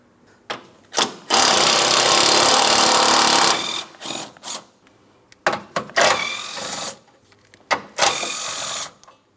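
A power tool, likely an impact wrench, rattles loose the 13 mm bolts on the crossover bracket of a 2004-2008 Pontiac Grand Prix 3.8L V6 during radiator work. One long, loud, close burst is followed by several shorter bursts, with no talking.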